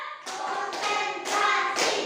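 Children in an Indonesian classroom clap along in a counted routine, giving four short, evenly spaced bursts of group clapping, close and moderately loud.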